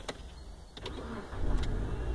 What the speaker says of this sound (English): show you guys how the push to start system works